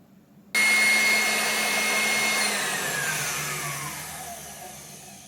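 A KitchenAid stand mixer, being checked for a grease leak, switches on at high speed with a sudden loud, steady motor whir that holds and slowly softens, close by with no talking.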